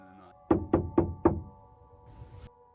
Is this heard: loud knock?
yes